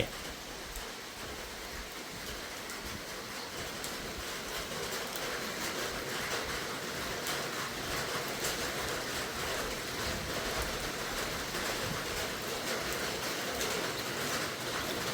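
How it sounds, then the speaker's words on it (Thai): Steady rain falls outdoors in rural Thailand, a constant even hiss of drops spread across the whole clip with no break and no talking. "ฝนตกพออากาศเย็นๆนี่พี่น้องหนาวหนาวเนาะ"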